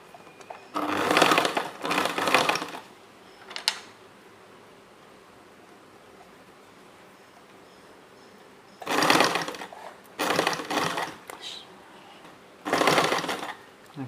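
A sewing machine stitches a blouse sleeve in several short bursts of rapid mechanical chatter, separated by long quiet pauses of faint room noise.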